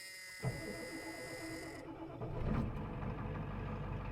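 A 1989 Ford F250 IDI diesel engine, unstarted for a week, cranks and catches, then settles into a rough, rumbling idle that grows heavier, close by with a steady hum underneath.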